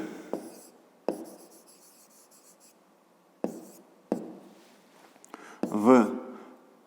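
A pen writing on paper during a fifth-grade maths exercise, short scratchy strokes in separate bursts with pauses between them, close and quiet, with no talk over it.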